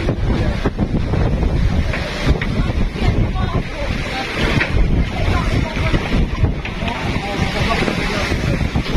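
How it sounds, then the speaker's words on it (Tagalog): Strong wind buffets the microphone with a constant loud roar in Naga City, Camarines Sur, with faint voices and water noise underneath. "Lakas ng hangin."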